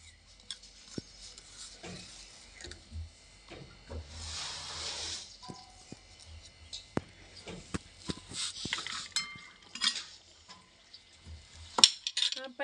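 Chopped onions being scraped out onto a plate in a home kitchen while making desi-style onion chutney, with faint scattered metallic clinks and taps of a utensil against the dish, quiet and close, including a soft scraping stretch midway.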